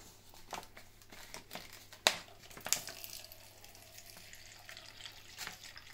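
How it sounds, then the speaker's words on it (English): Water squeezed from a plastic bag through a Sawyer filter into a clear cup, heard as a quiet trickle and dribble under crinkling plastic, with two sharp crackles partway through. "what you could do is put the Sawyer filter on top of it. And I'm going to filter into this clear cup"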